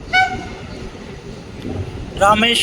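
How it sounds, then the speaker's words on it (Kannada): The Hubli–Rameshwaram Express passing a railway crossing in India, with a horn blast at the start and another at the end and rumbling rail noise between, fairly close, under some talk. "ಹುಬ್ಳಿ ರಾಮೇಶ್ವರಂ ಎಕ್ಸ್ಪ್ರೆಸ್."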